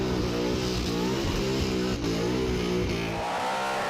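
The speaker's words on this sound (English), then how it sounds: "This is one of the louder cars that we have doing the Summer Nats circuit wherever we go around the country." Loud, aggressive revving from a Summernats burnout car fitted with an injector hat after a switch from methanol carbies, its engine a dense, sustained roar that drops away near the end, heard alone with no voices.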